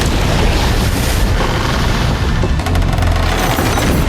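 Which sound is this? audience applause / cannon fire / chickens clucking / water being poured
cannon fire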